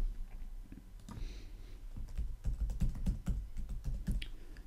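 A password is typed on a computer keyboard as a quick run of close, soft key clicks that gets denser toward the end, with no speech.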